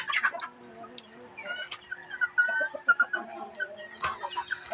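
A penned chicken clucks repeatedly in short, close bursts with a few higher calls mixed in, at moderate volume with no talk.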